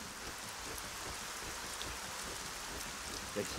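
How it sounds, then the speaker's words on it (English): Rain from the ArcaniA Gothic 4 video game falls as a steady broadband hiss, moderately quiet and constant throughout, with no other sounds standing out. "Damn rain!"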